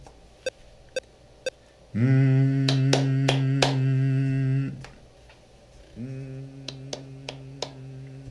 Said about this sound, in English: Now I'm just gonna record some sound, some humming, some clapping, why not?